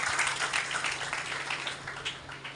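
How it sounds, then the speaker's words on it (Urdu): A congregation at a Sunday church gathering applauds, a soft, fairly distant spread of many hands clapping at a steady level, with a low hum running underneath. "زوردار تالیاں خدا کے لیے بجائے"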